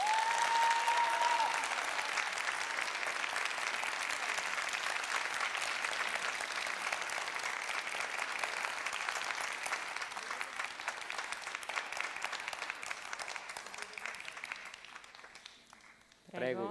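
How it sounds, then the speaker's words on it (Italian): An audience at a Neapolitan talent show applauding a contestant, steady broad clapping that holds for many seconds and thins out toward the end as a voice cuts in. "Adesso io vi dirò applauso e voi partite."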